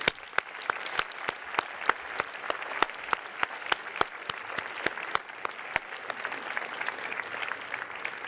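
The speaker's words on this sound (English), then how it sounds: "Please join me in applauding my faculty." Steady applause from a large graduate convocation audience, with a few sharp, regular claps standing out near the microphone before the clapping thins slightly.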